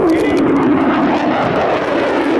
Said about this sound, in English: these F-35 aircraft are based right here in Wisconsin and are the most technologically advanced fighter aircraft